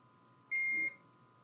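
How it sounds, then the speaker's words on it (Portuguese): A multimeter's continuity beep sounds once while probing a mobile phone circuit board, a single short clean electronic tone lasting under half a second against a quiet background. "Aqui bipou um lado, que é terra, beleza, o outro lado não bipou"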